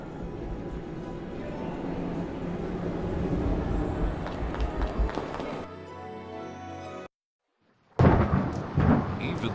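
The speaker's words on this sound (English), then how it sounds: "Even though the following morning was stormy and foul, Harry was excited" Stormy weather in the PC game Harry Potter and the Prisoner of Azkaban brings a loud, rumbling wash of thunder and heavy wind that swells and fades, cuts to brief silence, then returns with renewed roaring.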